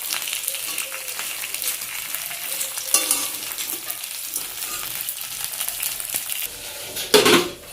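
Malabar spinach leaf fritters fry with a steady soft sizzle in a home kitchen, and a pan or utensil clinks loudly near the end.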